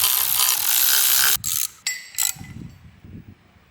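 Rapid ratchet clicking runs loud and close while bolts are driven into a new engine on a 1990s MasterCraft boat, then breaks into short separate bursts of clicks and faint metallic knocks.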